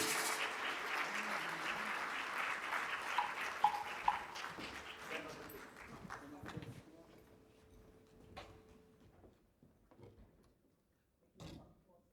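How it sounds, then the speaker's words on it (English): A conference opening-ceremony audience applauds, a dense wash of clapping that starts loud and gradually thins and fades out, ending in a few scattered claps and light room noise. "So I think they deserve another really loud round of applause."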